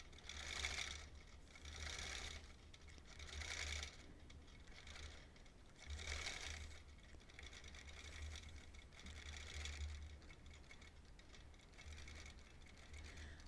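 Sewing machine quilting a Double Wedding Ring quilt topper, a soft rapid stitching hum in repeated short runs with brief pauses between them, quiet and close.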